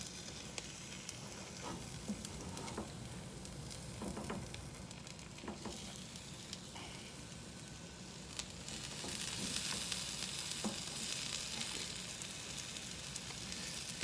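A chicken fajita sourdough melt with cheese fries in a pan, giving off a steady close sizzle with small pops and crackles that grows slightly louder toward the end.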